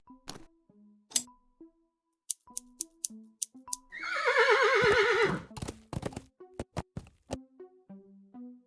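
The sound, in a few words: horse neighing in video game Willy Morgan and the Curse of Bonetown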